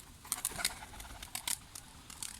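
Soft pigeon cooing and brief fluttery bird sounds from a tumbler pigeon come in short bursts, fairly faint, with no talking.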